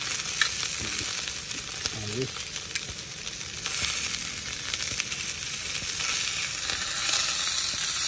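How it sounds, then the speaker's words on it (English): Sausages and vegetables fry low and slow in a pan on a camp stove at a carp fishing lake, a steady close sizzle with occasional stirring scrapes. "cook these sausages low and slow. Cook the veg, again low and slow."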